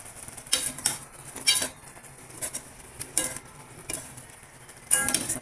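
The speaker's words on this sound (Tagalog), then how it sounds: "Tapos mix lang natin." Chicken seasoned with salt and pepper is stirred in a pan for kinamatisang manok, with a utensil clinking and scraping against the metal in irregular bursts, fairly close and with no talk.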